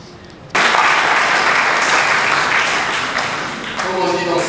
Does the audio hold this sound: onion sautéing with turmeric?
no